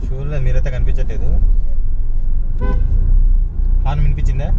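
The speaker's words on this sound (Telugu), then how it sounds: "హార్న్ వినిపించిందా?" A car horn toots amid busy street traffic, with short honks from nearby vehicles over a steady engine rumble while people talk close by.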